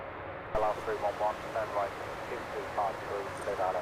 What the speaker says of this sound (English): Oh, sound of that prop.